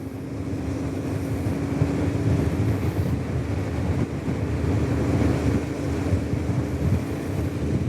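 Steady engine drone and heavy wind rush from a Suzuki DL650 V motorcycle ridden through open Norwegian countryside, a continuous loud buffeting roar with no talk.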